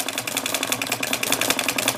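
A Herb Bedell model hit-and-miss wobbler engine runs up close with a steady, fast, rattling chuff, each beat evenly spaced and loud throughout.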